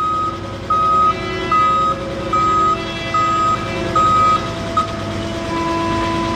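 A forklift and a 20-foot truck reverse, their backup alarms giving steady repeating beeps at about one per second over a constant engine drone, with a second, differently pitched beeper joining near the end.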